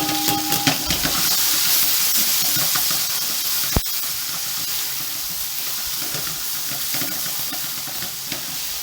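Cauliflower stalks sizzle and hiss steadily while frying in a pan for cauliflower mutton curry, a continuous close crackle with occasional stirring clatter and one sharp clink.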